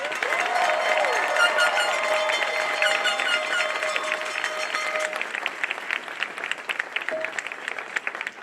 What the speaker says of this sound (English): You all deserve a massive round of applause